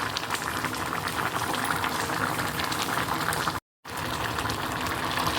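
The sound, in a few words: tapioca curry boiling in a pot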